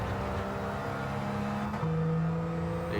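Kei car racing around Autopolis in Gran Turismo 7, a steady, loud engine drone with a sustained whirring note that shifts pitch partway through as the car changes gear, with no talking.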